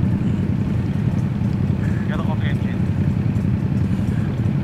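Harley-Davidson motorcycle exhausts on a club group ride, a loud, close, steady low rumble of idling engines throughout, with brief voices and a faint whistle-like tone mid-clip.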